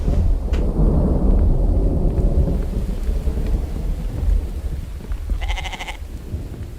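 Steady rain falls with a deep rumbling roll of thunder in the survival game The Infected, a broad loud wash throughout, with a brief tonal bleat-like cry near the end.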